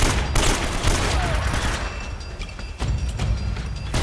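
Dense bursts of video game gunfire from Uncharted: Drake's Fortune, with rapid shots and thumping booms coming in waves, loud and close, broken by a couple of short pauses.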